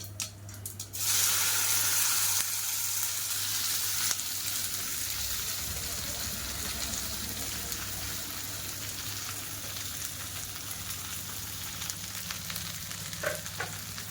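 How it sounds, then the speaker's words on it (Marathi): Okra (bhindi) frying in oil in a pan, a steady sizzle that jumps up sharply after a second and then settles into a continuous, moderately loud hiss with occasional stirring clicks. "आणि मग मस्त फ्राय करून घेते भेंडीला"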